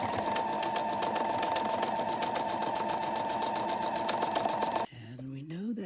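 Sewing a seam on an Independence quilt block, the machine runs in a fast, even, rhythmic whir for about five seconds close up, then stops abruptly as a voice begins speaking.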